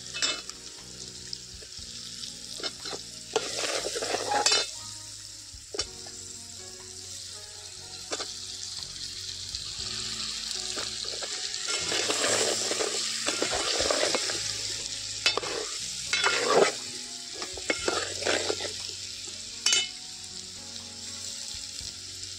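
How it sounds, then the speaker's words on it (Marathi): Stuffed brinjals with Malvani masala and coriander roast in a pan over a steady close sizzle, broken by repeated scraping bursts of stirring. "ही वांगी बरी भाजावी।"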